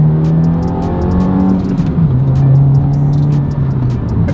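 A 2023 Subaru WRX with aftermarket modifications drones steadily, its engine and exhaust holding a loud, close rumble whose pitch dips partway through, with no one talking over it.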